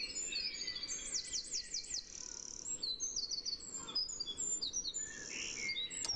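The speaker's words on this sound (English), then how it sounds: "And again, that fantastic wren." A wren sings bright rapid trills and chattering phrases in repeated bursts, clear and fairly close over faint outdoor background noise.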